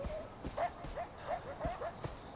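Dogs in the game Far Cry 4 bark and yip in a quick run of about six sharp barks, fairly close, with a faint voice beneath.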